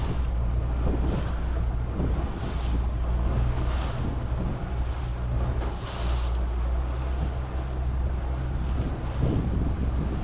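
A boat running on open water with an outboard trolling motor, steady wind buffeting and wash of waves over a low continuous motor drone, no voices.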